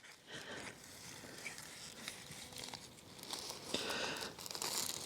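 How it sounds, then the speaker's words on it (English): A hori knife slices through a dense agapanthus clump to divide it, giving steady crunchy tearing and crackling of roots and leaves at close range, with rustling bursts toward the end. "So I'm going to take my hoary knife and just start gently cutting here."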